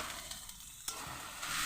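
Squeezed-dry taro leaves dropped into hot oil and spiced masala, a steady close sizzle with a sharp burst as they land, followed by stirring scrapes and the hiss swelling toward the end.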